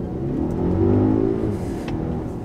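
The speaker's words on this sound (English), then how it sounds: "do a full throttle acceleration here on dry pavement with 275mm wide tires" A 2019 Volvo S60 Polestar Engineered T8 hybrid launches at full throttle on dry pavement with 275mm tires, its engine droning and rising steadily in pitch with a faint electric whine, heard from inside the cabin without talk.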